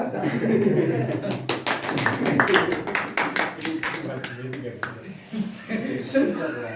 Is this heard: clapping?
yes